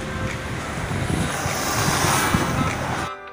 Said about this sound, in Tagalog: Ang sarap ng hangin guys, ang lamig.